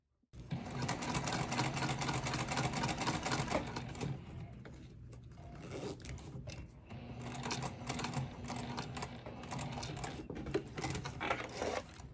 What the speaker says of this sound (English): But for now, we're stitching just underneath the bottom.